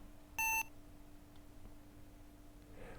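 A single short electronic beep from the ascent thruster button in the Space Quest 2 computer game, a bright tone with clean harmonics over faint background hum, followed by quiet.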